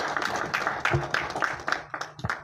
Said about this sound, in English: give a round of applause to our entire team for putting this together